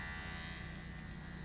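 An electric hair clipper buzzes steadily and faintly while clipping a horse, a continuous, even whine with no talk over it.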